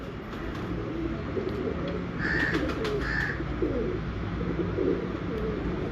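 A breeder pigeon coos softly in short, repeated phrases at close range over a steady hum of background noise.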